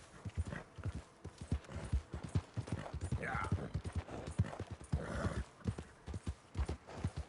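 Horse hooves clip-clop in Red Dead Redemption II at a rhythmic trotting pace. The hoofbeats are moderately loud and steady throughout, with game voices faintly mixed in.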